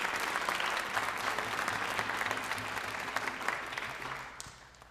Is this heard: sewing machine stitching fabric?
no